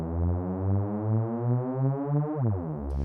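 Single-oscillator synth riser built in the Vital synthesizer with filter resonance at zero, a steady harmonic-rich tone whose pitch glides slowly upward over about three seconds, loud and alone.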